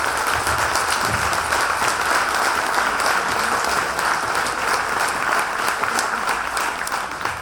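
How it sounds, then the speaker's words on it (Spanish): Steady, loud applause fills a hall as a congress audience at the opening of an international psychoanalysis congress claps for the dean, sustained throughout without pause. "Un fuerte aplauso para el señor decano que se lo merece."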